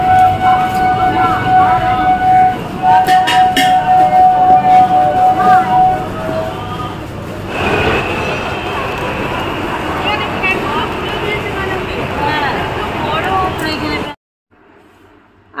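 Busy platform ambience at Sealdah railway station: a steady wash of crowd murmur, rumbling trains and a long tonal horn or siren-like whine for several seconds, with a louder noisy swell midway before cutting off near the end.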